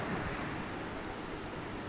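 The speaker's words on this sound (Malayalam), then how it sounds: "ശക്തമായിട്ടുള്ള തിരമാലകൾ അടിക്കുന്നുണ്ട്" Strong ocean surf breaking steadily at Chethi beach, a continuous loud broadband wash with wind buffeting the microphone and no distinct individual wave crashes.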